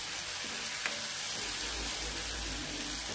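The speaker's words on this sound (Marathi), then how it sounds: "आता आपण जे वाटण केलं होतं ना ते टाकायचं आहे यामध्ये आणि याला पण परतून घ्यायचं छान कलर चेंज होईपर्यंत" Ground spice paste mixed with sambar masala sautéing in a pan for a Maharashtrian drumstick and potato curry, with a steady soft sizzle, a faint stir or scrape near the start, and a low rumble building underneath.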